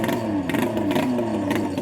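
Modified long-tail racing boat engine, a converted old Thai taxi motor, revving hard at a Thailand boat race, a loud close rough drone with rising and falling pitch and clattering mechanical texture.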